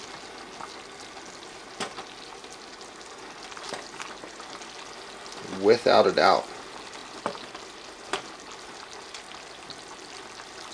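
Ground beef fries in a small Ozark Trail camping pan while noodles cook, giving a constant soft sizzle with a louder burst of crackling stirring midway and scattered clinks, as someone talks briefly.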